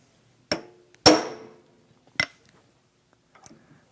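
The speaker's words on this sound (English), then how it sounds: "we're going to place a punch right here on this little ear, and we're going to strike this right here" A hammer strikes a punch set against the flywheel nut of a small engine, giving four sharp metallic blows. They are irregularly spaced and close, and the second is the loudest and rings longest.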